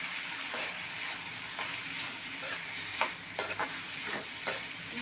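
Grated coconut is stirred into an ivy gourd (kovakkai) stir-fry in a pan, with a soft steady sizzle broken by several scraping, clattering stirs of the spatula.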